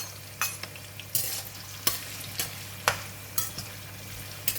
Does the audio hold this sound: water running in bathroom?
no